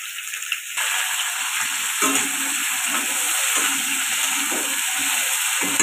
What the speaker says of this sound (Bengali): আলুগুলো ঢেকে ঢেকে আমি লাল লাল করে ভেজে নেব।